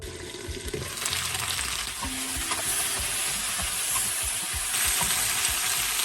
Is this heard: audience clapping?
no